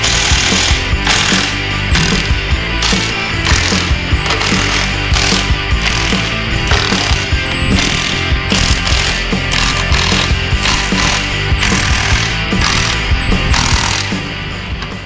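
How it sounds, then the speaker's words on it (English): Tools loosening the transmission pan bolts on a used 4L80E transmission, heard as loud, continuous rapid mechanical rattling and ratcheting, close up, with a few brief pauses over about fifteen seconds. "I'm just going to go around the perimeter and take all these bolts off here."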